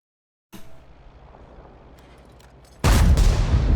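A Skorpion G tank's cannon in World of Tanks fires one loud, sudden blast that follows a few seconds of low, steady rumble and keeps booming to the end.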